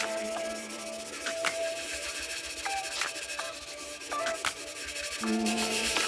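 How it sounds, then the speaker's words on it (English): A dirty pot or pan is scrubbed by hand, a dense scratchy rubbing at close range with rhythmic back-and-forth strokes and occasional sharp clinks of metal. "now I'm just gonna go in and start kind of scrubbing"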